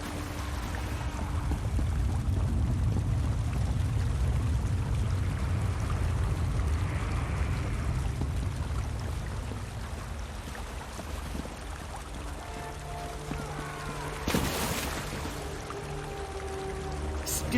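Flowing, pouring water in the Elder Scrolls Online game, a steady broadband wash loud through the first half, easing later with some tonal game sounds layered over it and a brief splash near the end.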